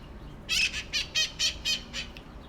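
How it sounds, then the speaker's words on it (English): Green parrots with red shoulders call while flying overhead, a series of about seven harsh, raspy squawks in an even rhythm, moderately distant against a quiet outdoor background. "two green parrots with red on their shoulders flew overhead"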